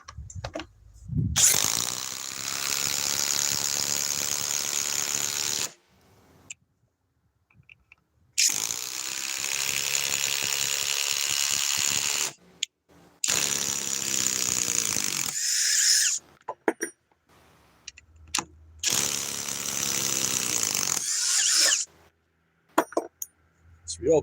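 A Ryobi power tool whirs loudly in four separate bursts of a few seconds each, separated by short near-silent pauses.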